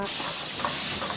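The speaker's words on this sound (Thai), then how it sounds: "ใส่น้ำลงไปหนึ่งแก้วแล้วก็ผัดค่ะ ผัดต่อค่ะ" Steady hiss and steam of food being stir-fried in a pan just after a glass of water is poured in, a continuous close sizzle with faint scraping.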